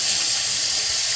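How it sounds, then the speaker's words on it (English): Steady broadband rush of tap water running into a kitchen sink during cooking prep, constant and fairly close with no talking. "turn the water back on"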